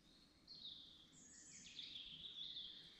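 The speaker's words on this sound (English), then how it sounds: "listening to the birds. That's it. That's all you can hear, birds." Birds sing in British woodland at night, thin high chirps and a few trilling phrases over a faint, quiet background, with no other sounds.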